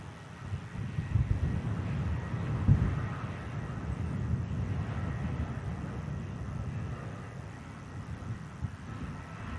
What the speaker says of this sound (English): TUI Dreamliner in from Ibiza